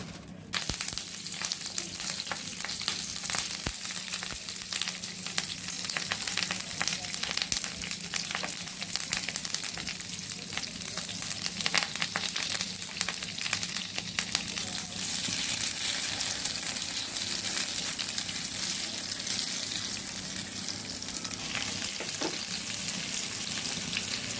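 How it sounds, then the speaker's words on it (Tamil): Spiced fish frying in oil on a tawa, a loud, steady crackling sizzle that carries on continuously up close, with no voices over it. "இப்போ தவா வச்சுட்டு தேவையான அளவுக்கு எண்ணெய் ஊற்றி ஃப்ரை பண்ணிக்கலாம்"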